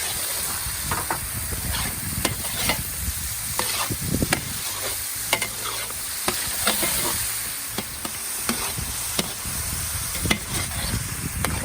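Oil sizzles and crackles steadily as tomato fries in a pan, with repeated scraping and stirring clatter throughout, close and fairly loud.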